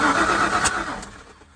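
A Ford 5.8L 351 Windsor V8 cranks briefly, giving a short close whir and a soft compression puff partway through, then fading toward the end.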